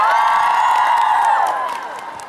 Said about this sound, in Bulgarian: Ама аплодирайте ги малко повече